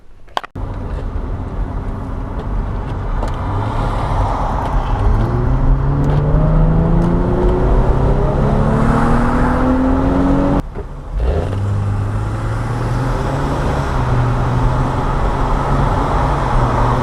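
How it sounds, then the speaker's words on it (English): Nissan Skyline G35 being driven on the road, engine note rising and falling through gear changes with a steady close drone and a brief gap near the end before it pulls away again. "To go to Bunnings, let's go for a drive again, and got to go get Marley."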